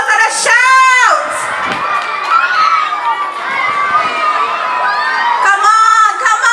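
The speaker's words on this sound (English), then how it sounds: "Come, give them a round of applause and a shout." Primary school children at a crime-and-violence school tour cheering, shouting and whooping loudly as a crowd, with bursts of high excited voices rising and falling in waves.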